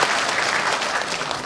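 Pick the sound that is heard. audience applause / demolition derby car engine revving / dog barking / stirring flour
audience applause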